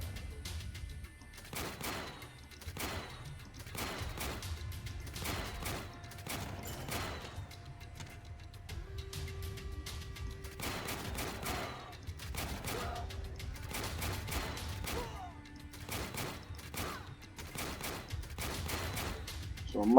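Turret gunfire in the Warpips video game cracks out in repeated bursts of sharp shots over a low rumble, steady and rhythmic throughout, with faint tonal game sounds underneath.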